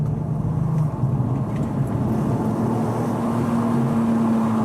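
A steady, deep drone from a Volkswagen Golf R32 Mk4 V6 engine with a smooth humming tone, running continuously and fairly loud throughout.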